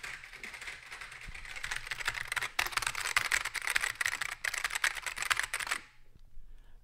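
Rapid computer keyboard typing clatters steadily for several seconds, close and fairly quiet, with brief pauses before stopping abruptly.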